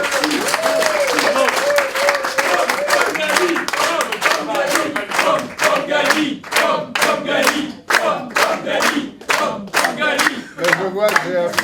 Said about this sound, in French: Et je vous demande pour lui une standing ovation.